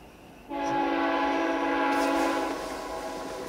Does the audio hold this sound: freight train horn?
yes